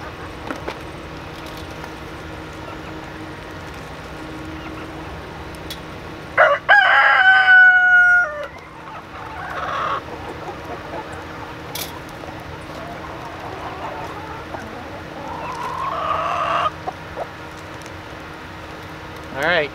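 A rooster at a chicken coop door with an automatic door lets out one loud, nearby crow partway through, while hens cluck more quietly around it and a person talks at intervals.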